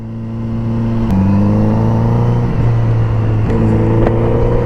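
A 2021 Kawasaki Z900 RS motorcycle engine revving, its steady loud drone rising and shifting in pitch a few times, with a couple of sharp clicks, close by and without talk.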